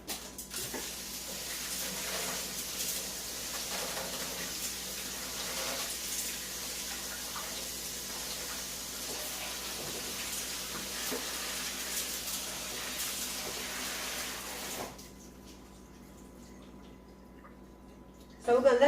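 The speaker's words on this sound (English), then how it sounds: "I'm going to put them in a colander and I'm going to rinse them off." A kitchen faucet runs steadily over lentils in a colander, giving an even, close hiss of water that stops near the end, followed by a brief clatter.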